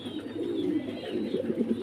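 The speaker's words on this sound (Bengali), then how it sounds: "দেখেন কবুতর দেখেন" Pigeons in a wholesale flock coo continuously, with low throaty rolling calls overlapping close by and steady throughout.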